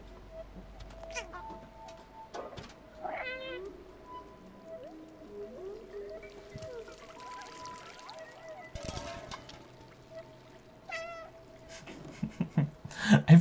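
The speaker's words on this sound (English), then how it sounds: "Every game should have a meow button." A cat meows repeatedly in the video game Stray, a few short, clear calls spread over ambient game sounds and faint music.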